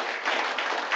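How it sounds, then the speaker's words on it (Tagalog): A church congregation applauding for God, a broad wash of many people clapping at once, even and sustained across a short burst, slightly distant and with no speech. "Ibigay mo ang malakas na palakpak mo para sa Diyos na may-ari ng iyong buhay."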